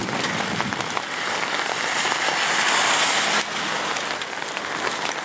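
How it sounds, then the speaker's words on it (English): Large hail pelts down in a dense, loud, crackling patter during a tornado in Tupelo, Mississippi, steady for several seconds with a brief dip near the end; no talking. "Big hail."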